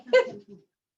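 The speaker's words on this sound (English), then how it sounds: "Move, dog." Dog in a home kitchen giving a short, close bark-like vocalization followed by a softer trailing whimper, then silence.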